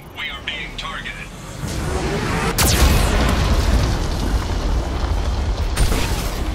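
Mass Effect 2 Geth cannon blasts: a deep boom swells into a heavy, continuous rumble of explosions, loud and close, with faint voices.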